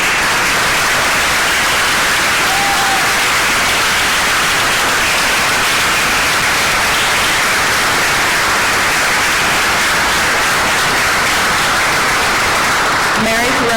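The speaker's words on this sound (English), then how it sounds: "So if you could all stand first so we can applaud you." Audience at a Maplewood Township committee meeting applauding the township's women employees, a steady, dense wash of clapping that fills the whole stretch without pause.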